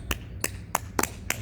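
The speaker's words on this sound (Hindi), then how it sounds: "उसके बाद ताली बजाने का प्रक्रिया जैसे" Five sharp hand claps at an even, brisk rhythm during a yoga exercise session, close and crisp with no talking between them.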